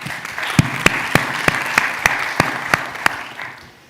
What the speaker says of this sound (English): Maybe we can give him a clap.